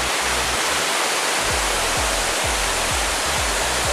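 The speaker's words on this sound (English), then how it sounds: "Oh wow! There's the waterfall. It's huge." Large waterfall at Plitvice park roaring steadily, a dense, loud wash of falling water heard up close with low periodic thuds underneath, no voices.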